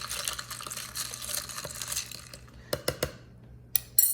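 A spoon stirs an iced white mocha with milk in a glass, loud ice clinking and swishing at first, then a quieter pause broken by a few sharp taps and clinks of ice against the glass.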